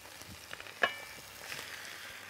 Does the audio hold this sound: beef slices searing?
yes